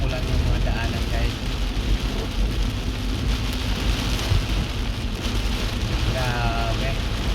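Heavy rain pours down on a road with strong wind during a storm, a dense, steady roar filling the whole stretch, loud and close with no pauses.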